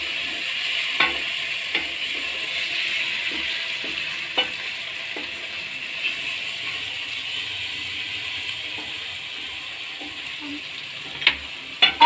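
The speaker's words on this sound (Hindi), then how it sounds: "और उसके बाद हम इसे चलाएंगे। थोड़ी देर तक चलाएंगे ताकि नमक अच्छे से इसमें मिल जाए" Chana masala with salt being stirred in a pan, a soft steady sizzle throughout with intermittent scraping clicks of the spoon against the pan.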